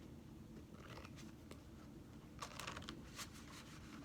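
Tarot cards shuffled by hand at close range, a soft papery riffle with scattered crisp flicks and a few louder clustered snaps near the end, quiet and without talk.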